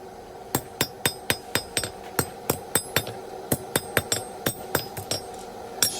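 Steady, ringing hand-hammer blows fall close by on a hot steel bar over an anvil as a blacksmith forges it from square to octagonal, around twenty crisp strikes in a quick, even rhythm.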